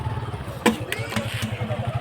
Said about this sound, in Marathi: ही एक बाईक आहे, एक बाईक तिकडे आहे.